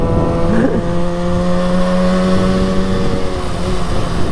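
A 1968 Yamaha YL1 Twinjet motorcycle held at wide open throttle, its loud, steady engine note droning close by without pause for the whole stretch.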